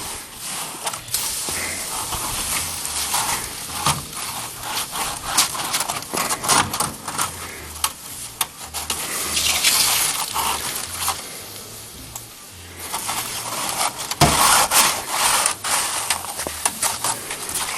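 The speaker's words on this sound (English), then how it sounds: "See how nice that cleans that pan up?" Pan from a maple syrup camp scrubbed clean with snow, a loud, continuous close scraping and rasping that swells and fades in long strokes, with brief pauses between passes.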